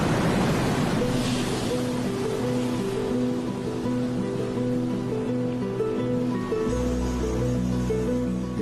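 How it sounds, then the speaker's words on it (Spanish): Surf from the Pacific Ocean breaks along the desert coast beside the ancient city of Chan Chan. A continuous, full wash of waves is layered over a low sustained musical drone. "Situado a lo largo de la ciudad de Chan Chan, está el poderoso Océano Pacífico."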